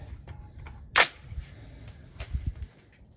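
A single sharp rifle shot from a SIG 716i loaded with 168 grain Sierra MatchKing bullets over Reloader 15 powder cracks out at an outdoor range, followed by fainter distant shots from other shooters.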